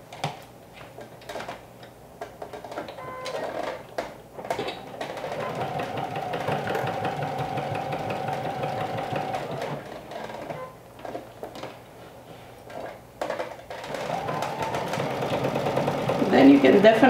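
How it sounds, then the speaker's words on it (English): A sewing machine whirs in steady bursts, stitching overalls for several seconds at a time with pauses, alongside quiet ticking and a person talking. "This is the part that you need, definitely need to stitch with your sewing machine"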